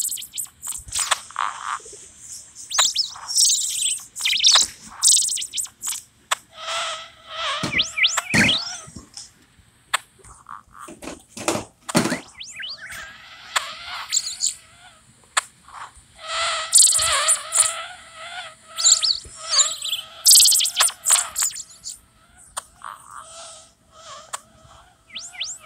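Bird chirping in the Old School RuneScape game ambience, a dense run of shrill twittering and chattering calls that swell and fade in waves over a faint background, with no speech.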